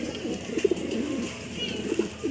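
Pigeons newly kept as birds coo in a low, throaty rhythm, with a few soft calls standing out over steady background noise and no talking.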